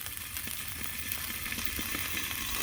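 Corn on the cob sizzles on a Blackstone griddle in a steady, close hiss, with light scrapes and taps as the cobs are rolled and moved around.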